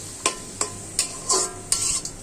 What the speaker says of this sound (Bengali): নারিকেলটা আমি ভেজে নিব।